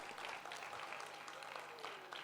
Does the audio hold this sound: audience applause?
yes